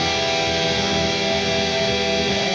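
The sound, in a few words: four harmonized guitar notes from a riff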